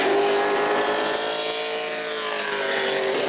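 A Pro Late Model race car circles the track at New Smyrna during qualifying, its engine a loud, sustained high-pitched drone with a steady pitch that sags slightly midway, no voices over it.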